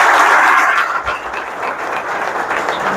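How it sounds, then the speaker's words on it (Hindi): Loud, dense applause from an audience at a motivational talk, steady clapping that swells at the start and dips briefly before continuing. "जोरदार तालियों से आप स्वागत"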